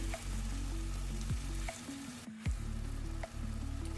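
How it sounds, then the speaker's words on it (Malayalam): Chicken frying in coconut oil on a high flame, a steady loud sizzle with occasional stirring scrapes and a short dip in the middle. "വെളിച്ചെണ്ണയും ചിക്കനൊക്കെ കൂടി നന്നായിട്ടൊന്ന് മിക്സ് ചെയ്തെടുക്കാം ഹൈ ഫ്ലെയിമിലാണ് ഇട്ടിട്ടുള്ളത്"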